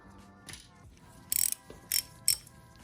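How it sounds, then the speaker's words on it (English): A ratchet wrench loosens cylinder head bolts on a 1991 Honda XR250L engine, giving three loud, sharp bursts of metallic ratcheting clicks close up after a quieter start, with no speech. "let's get these head bolts off."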